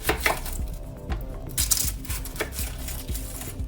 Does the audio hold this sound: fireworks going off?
no